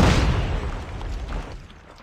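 A grenade blast in Call of Duty: a loud, close boom at the start whose rumbling roar slowly decays over about two seconds, with no talk.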